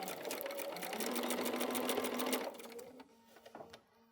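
A sewing machine re-stitches a rolled patchwork seam on fusible grid fabric, running in a steady rapid whir for about two and a half seconds before slowing and stopping, followed by a few faint handling noises.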